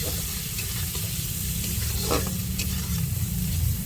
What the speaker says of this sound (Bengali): হলুদ গুঁড়ো দিয়ে আর একটু নাড়াচাড়া দিয়ে দেবো